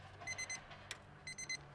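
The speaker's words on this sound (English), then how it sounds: "The buzzer went off, therefore our brisket has to be at least 193." A meat thermometer alarm beeps in two quick triple bursts while a brisket smokes, faint and thin against low background hum, with a brief click between the bursts.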